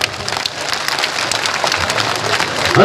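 Large crowd at a Thakor community gathering clapping with raised hands, a loud, fast, rain-like patter of many hands that builds slightly toward the end.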